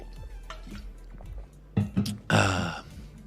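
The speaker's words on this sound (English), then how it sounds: "Let me take a drink of water." A man gulps a drink of water on a casual sports-talk podcast, with quiet sips and swallows building to a couple of louder gulps and a wet exhale, close to the microphone and without talk.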